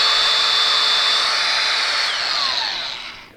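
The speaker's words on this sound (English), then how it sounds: "just hit it for a sec. Making sure that little wheel's not spinning off." A DeWalt DCG413B cordless angle grinder, brand new, runs briefly with its small wheel spinning: a steady high-pitched whine held near and loud, then a slight drop in pitch as it winds down at the end.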